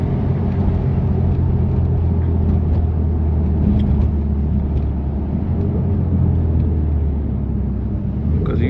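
A BMW F80 M3 Competition drives on post-blizzard roads toward Newark, New Jersey, its engine a steady, loud cabin drone with road rumble and no talking.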